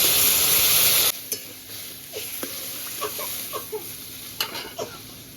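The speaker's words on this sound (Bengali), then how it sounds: "এবার পরিমাণ মতো জল দিয়ে দিচ্ছি।" Water poured into a hot pan of frying pointed gourd and potatoes sets off a loud hiss in the first second. A quieter simmer follows, with scattered clinks and scrapes of a stirring utensil.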